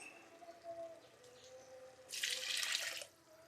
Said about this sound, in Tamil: தண்ணி ஊற்ற போகிறோம்.